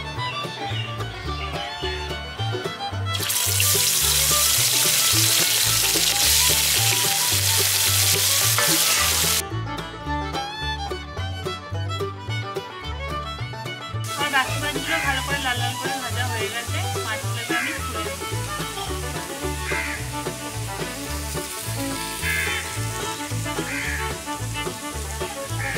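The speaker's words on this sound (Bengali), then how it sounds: "বাদ বাকি যে মাছগুলো আছে ওগুলো আমি এবার ভেজে নিচ্ছি" Rohu fish pieces fry in hot oil with a loud, bright sizzle that swells for several seconds and then settles into a lower, steady crackle under continuous background music.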